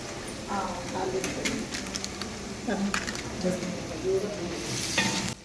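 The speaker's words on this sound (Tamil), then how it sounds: "லைட்டாக பொன்னிறம் ஆயிடுச்சு வெங்காயம் வதங்கி வந்துச்சு" Onions turning golden in a pan with chili powder for homemade chicken biryani give a steady sizzle broken by scraping stirs and spoon knocks, heard close under a person talking.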